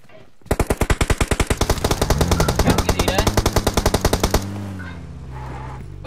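Rapid sustained machine gun fire from an MG3 in the mobile game PUBG Mobile, a loud, evenly spaced burst of about four seconds that stops abruptly, followed by a lingering low hum.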